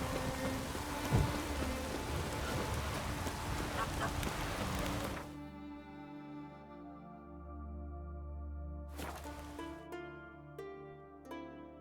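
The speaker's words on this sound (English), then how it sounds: "Raining fucking buckets." Steady, dense rain hiss in the video game The Witcher 3: Wild Hunt for about five seconds, then it cuts out, leaving a low droning tone with a few faint sharp clicks.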